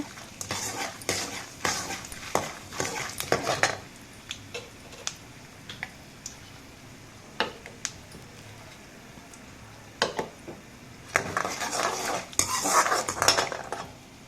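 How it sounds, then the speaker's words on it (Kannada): A spoon scrapes and clinks against a pan as lentils fry over a low flame for vangi bhath, with irregular bursts of stirring separated by quieter pauses and faint sizzling underneath. "ಇವತ್ತು ಎಲ್ಲ ಒಂದ್ಸಲ ಮಿಕ್ಸ್ ಮಾಡೋಣ"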